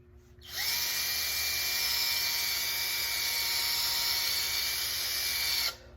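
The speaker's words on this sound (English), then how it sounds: "Get a cordless drill, for God's sake." A cordless drill fitted with a 3M headlight restoration pad sands the headlight of a BMW Z3, its motor spinning up sharply into a steady, loud whine that holds for about five seconds before cutting off.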